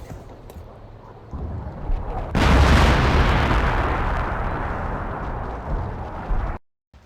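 A World War I trench-warfare artillery barrage: after a low rumble, a loud, sudden blast hits at about two seconds and becomes a sustained heavy roar of explosions, then cuts to silence near the end.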